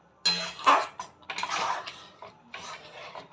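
A spatula scrapes and clinks against a cooking pot while mustard greens are stirred, a few short uneven scraping strokes, close and fairly quiet with no talking.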